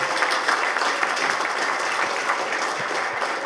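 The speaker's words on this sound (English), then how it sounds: "Big round of applause for Tony Gattari, guys." Sustained applause from a crowd, steady clapping throughout with no pauses.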